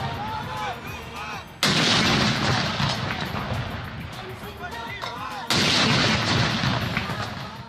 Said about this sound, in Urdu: دن کا آغاز وفاقی دارالحکومت میں 31 جبکہ صوبائی دارالحکومتوں میں 21 توپوں کی سلامی سے کیا گیا۔